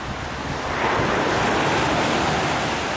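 Strong poyraz northeasterly storm wind and waves on the Marmara Sea give a loud, continuous roar of surf and gusting wind that swells slightly after the first second, with no voices.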